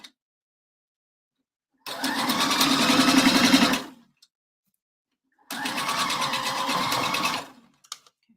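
A sewing machine stitches the center seam of a handmade bra at a quarter inch, running in two steady bursts of about two seconds each, separated by a quiet pause.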